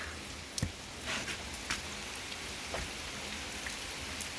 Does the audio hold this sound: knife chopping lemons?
no